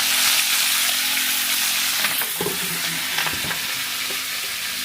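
Onion, chili and carrot sizzle loudly in very hot oil in a pan, a dense continuous frying hiss. Stirring clatter comes in around the middle, and no voice is heard.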